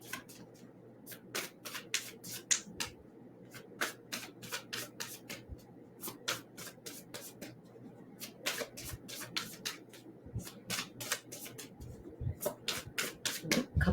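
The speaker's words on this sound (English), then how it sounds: "A couple more shuffles" A deck of tarot cards is shuffled by hand in quick, papery bursts of riffling and rubbing, repeated steadily throughout, close and fairly quiet.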